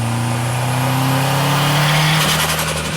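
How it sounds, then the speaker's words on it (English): A loud gasoline car engine revs steadily, its pitch climbing as it roars up, then holding at a high growl near the end. "Chris, you like loud cars."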